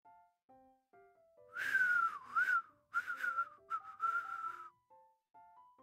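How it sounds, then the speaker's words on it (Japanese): Someone whistles a short, bouncy tune in clear sliding notes, with soft electronic music tones playing quietly before and after. "あのわざとらしい口笛。"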